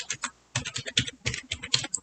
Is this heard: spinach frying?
no